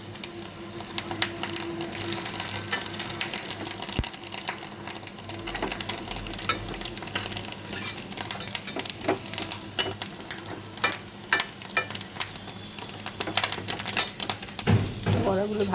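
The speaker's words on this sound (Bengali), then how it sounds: "বড়াগুলো ভাজা হয়ে গেছে" Fish roe fritters fry in hot oil in a home kitchen, a continuous sizzle broken by scattered crackles and pops, with occasional scraping and stirring knocks close by.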